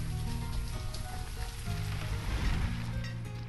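Rain pours steadily in the city-building game Banished, a dense, continuous hiss of falling drops at even loudness with no talking.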